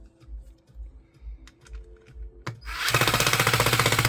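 A Worx WX242 electric screwdriver drives a screw with its clutch protection set high and the screw slots beginning to strip. A quiet stretch with faint knocks gives way to a loud, continuous rattling buzz with a fast, even pulsing.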